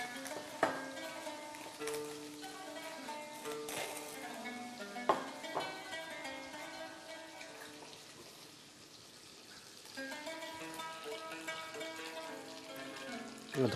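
Pieces of lamb meat hitting a hot pan, giving a soft, steady sizzle with stirring and scraping clatter; quiet and close, with no talk over it.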